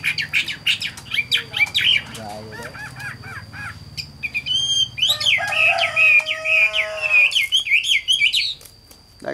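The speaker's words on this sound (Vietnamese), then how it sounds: "là chim sách lồng vẫn hót bình thường nha các bác nhá" A caged songbird, a tame cage-kept bird, sings loudly and close with rapid chirps, squawky calls and fast warbled trills, short phrases building into a long continuous run.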